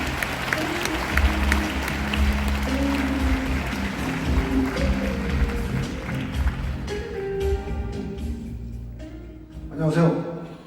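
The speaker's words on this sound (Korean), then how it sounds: "박수로 정지영 감독님을 맞이해주시죠" Audience applause at the opening-eve event of the 29th Bucheon International Fantastic Film Festival, welcoming director Chung Ji-young to the stage: sustained broadband clapping and crowd noise that thins out toward the end.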